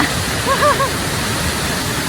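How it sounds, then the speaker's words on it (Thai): A mountain waterfall pours in a loud, steady, close rush of splashing water, with a short burst of tonal chirps early on over the constant roar. "น้ำตกว้าสุดยอดเลย"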